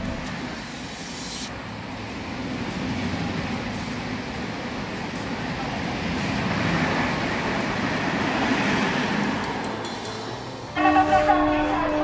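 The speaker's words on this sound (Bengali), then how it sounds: "তার নিজস্ব গতি 130-এ বারুইপাড়া স্টেশন স্কিপ করছে দিল্লি হাওড়া রাজধানী এক্সপ্রেস" Delhi Howrah Rajdhani Express racing at about 130 km/h through Baruipara station, a sustained rushing rumble heard from a moving train that swells and fades, with a sharp rattling burst near the end.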